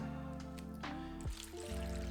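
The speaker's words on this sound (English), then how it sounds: "I'm going to add some water" Water trickles and drains through a freshly repotted plant in a semi-hydro setup, a continuous soft liquid flow with a gurgling shift partway through.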